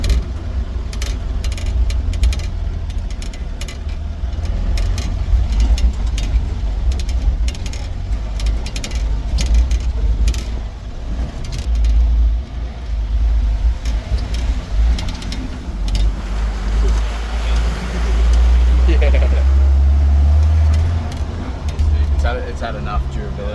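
A Nissan Patrol G60 engine drones steadily while driving an off-road track, with low rumbling, bumps and rattles from the rough ground, and people talking over it for much of the time.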